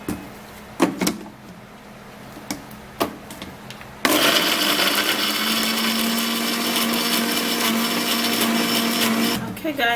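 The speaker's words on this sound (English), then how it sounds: "I'm going to be cutting the tomato and I'm gonna be blending it" A few scattered knocks and clunks, then an electric blender roars to life blending tomato, a loud, close, steady whirring that runs to the end.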